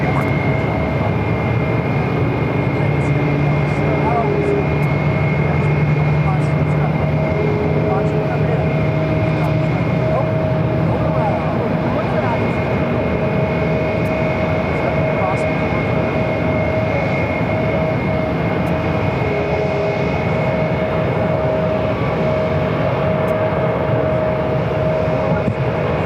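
Airliner engines roar steadily at Phoenix Sky Harbor during takeoff, a continuous broad drone with tonal whine persisting throughout, while radio chatter and voices murmur underneath.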